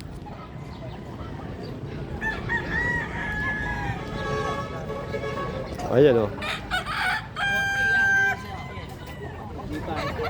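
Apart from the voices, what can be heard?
roosters crowing and chickens clucking at a chicken farm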